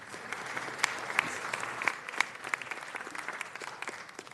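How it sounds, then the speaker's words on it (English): Steady audience applause at a city council meeting, many hands clapping together, a few sharper claps standing out, continuing evenly throughout without any voices. "give them one more round of applause"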